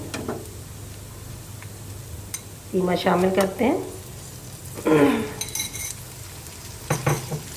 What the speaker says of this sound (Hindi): कीमे को अच्छी तरह इसमें फ्राई करना है, भूनना है